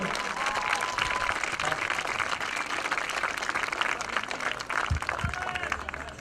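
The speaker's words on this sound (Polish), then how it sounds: "Ale mimo wszystko wielkie brawa dla drużyny Lowlanders Białystok i dla punktującego Jabalego Halisa" A crowd at an American football game in Białystok applauds continuously, a dense wash of clapping with a few louder thumps near the end.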